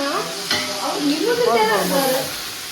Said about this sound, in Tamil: இந்த வெங்காயம் பாத்தீங்கன்னா கோல்டன் ப்ரௌன் ஆகும்.